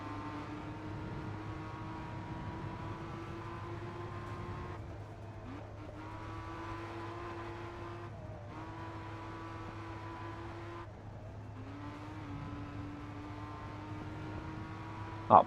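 A BMW racing around a street circuit in the GRID Autosport video game, its engine droning at a steady pitch with brief dips and climbs as gears shift while the car slides, steady and unbroken with no voices.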